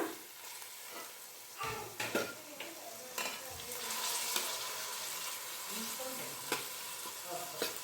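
Chopped tomatoes and onions frying in a pan for semiya pulao, a steady loud sizzle with occasional scraping and stirring of a utensil against the pan, no voices.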